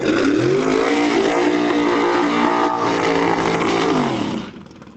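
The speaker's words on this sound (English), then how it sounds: "big block Chevy 2 far lane" A big block Chevrolet Chevy II drag car launches down the far lane of a drag strip, a loud sustained roar climbing through the gears before fading away near the end.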